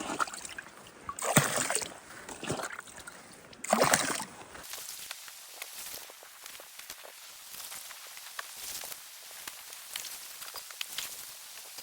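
Water is scooped and sloshed out of a leaking dinghy on a wilderness river float, with uneven splashes and scraping at close range, loud at first and then softer and steadier.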